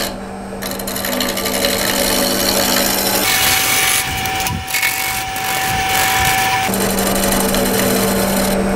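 A shear scraper cuts across a spinning wooden natural-edge hollow form on a lathe, giving a continuous close, loud scraping hiss over the machine's steady hum.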